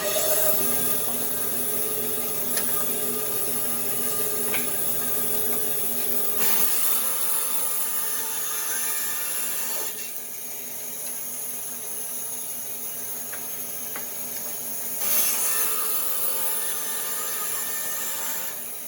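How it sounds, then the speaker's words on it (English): Bandsaw cutting wood pen blanks for a slimline pen, a continuous loud machine whine with shifting rasping tones as the blade bites into the wood and eases off in stretches. "This will be loud when I turn the bandsaw on."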